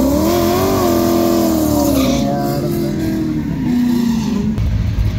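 A race car with a fuel pressure problem accelerates hard on a test run, its loud engine note climbing through rising revs, with a gear change, before easing off near the end.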